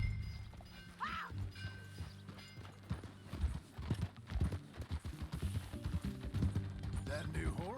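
A horse's hooves clip-clop at a steady walking rhythm in Red Dead Redemption 2, close and clear, with a brief whinny early on and game characters talking over the hoofbeats.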